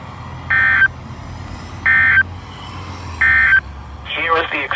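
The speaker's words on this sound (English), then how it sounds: "The warning alarm tone will be activated for hazardous watches and warnings for all of north central and" Three long steady warning tones from an EAS weather radio alert for hazardous watches and warnings in north central and northeastern Colorado, evenly spaced about a second and a half apart, followed by a burst of talk.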